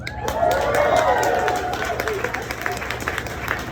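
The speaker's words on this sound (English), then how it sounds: "hold for aggressive applause from the audience, which you've given me" An audience at a live comedy show breaks into sustained applause, a dense wash of clapping and crowd noise filling the room from start to finish.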